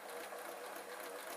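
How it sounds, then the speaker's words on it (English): A domestic sewing machine running steadily while sewing a buttonhole stitch around the edge of an upcycled notebook cover, a continuous close, fast whirring buzz with no pauses and no talking. "So what I've got it set on is the buttonhole stitch, and I'm just going to sew round there,"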